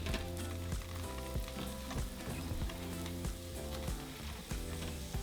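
Chopped onion sautéing in melted butter in a small pan, a steady close sizzle running throughout with faint clinks of a utensil, no voices.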